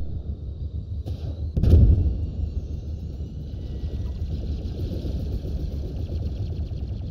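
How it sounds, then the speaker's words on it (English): A tank fires in the Star Wars Galactic Contention game. A single heavy, close blast rings out early, and a droning engine and battle rumble continue steadily behind it. "There's a tank right on top of our base."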